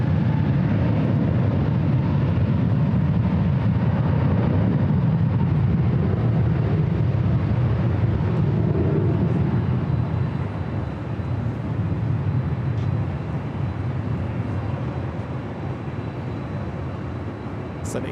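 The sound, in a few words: Delta Airbus A321neo airliner rolling down runway 24 left at LAX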